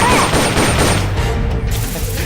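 Loud, dense gunfire and booming blasts from a gun in Metal Gear Solid: Portable Ops fill the moment, heavy and continuous before easing slightly toward the end.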